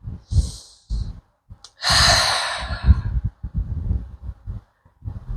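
Slow breathing during a seated chair yoga practice, with a long audible exhale through the nose or mouth amid softer breaths and sniffs, close and fairly loud.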